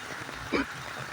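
Rain pours down over a flooded street in España, Manila, a steady close hiss throughout with a brief louder blip in the middle.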